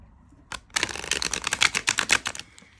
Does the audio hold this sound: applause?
no